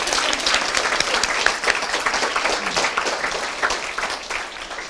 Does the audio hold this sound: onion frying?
no